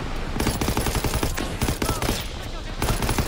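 Rapid machine gun fire rattles in a World War II shooter game, Call of Duty WWII, as loud, close bursts of repeated shots with brief gaps between volleys.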